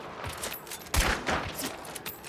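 Gunfire in a first-person shooter game: one loud, sharp shot lands about a second in, with smaller crackling bursts scattered before and after it.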